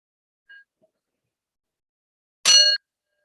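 A small bell rings once, a short bright metallic ding after a faint tiny tap, ringing clearly in an otherwise silent quiet room before cutting off.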